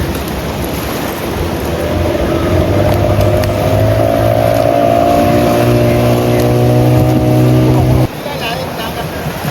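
A fishing boat engine drones steadily at close range as it arrives at shore, its low hum holding pitch before cutting off abruptly near the end, leaving wind and sea noise.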